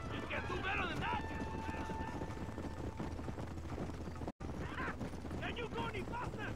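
A horse's hooves clip-clop steadily beneath urgent shouted talk during a ride, the rhythmic beats fairly close, with a brief dropout partway through.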